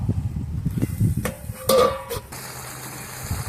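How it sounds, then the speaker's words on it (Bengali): A lid set onto a pan of lote fish curry with bottle gourd stems, a short metallic clatter and ringing clink near the middle of a brief, close moment, amid low kitchen rumble. "ভালো করে নাড়া হয়ে গেছে, এবার ঢাকা লাগিয়ে দেবো।"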